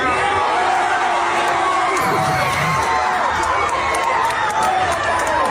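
A movie theater audience erupting at the Chicken Jockey moment of the Minecraft Movie, a dense, loud, sustained roar of cheering, screaming and shouting voices filling the room throughout.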